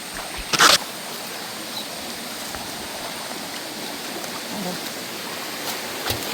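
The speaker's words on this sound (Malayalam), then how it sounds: "ഇനി ചെറിയൊരു തോടുകൂടെ ഉണ്ട്" A small stream flows in a steady, soft wash of water, with a brief louder knock or splash near the start.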